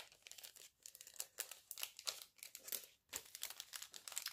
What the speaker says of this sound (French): Je vais remettre ceci dans l'enveloppe